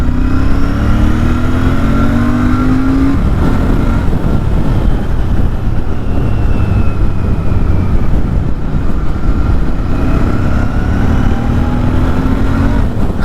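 A 2025 Royal Enfield Bear 650 motorcycle pulls away in first gear, its engine droning steadily and close with a rising pitch as it picks up speed, then climbing again later in the run.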